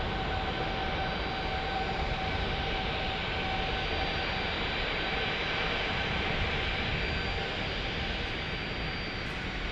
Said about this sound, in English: I believe this is our Las Vegas departure that is finally out of the penalty box.